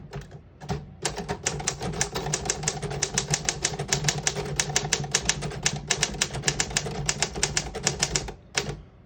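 Rapid, steady keystrokes clack on a 1952 Royal HHE manual desktop typewriter, a dense run of sharp mechanical strikes with a brief pause near the start and end.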